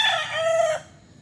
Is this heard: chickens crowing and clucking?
yes